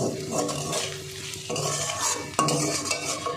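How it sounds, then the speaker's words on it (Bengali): Shrimp, onion, green chili and garlic fry together in a pan, with a steady sizzle under scraping and clinking as a spatula stirs the mix, close and moderately quiet. "চিংড়ি মাছ পেঁয়াজ আর কাঁচা লঙ্কা রসুন সব একসঙ্গে ভাজা হচ্ছে"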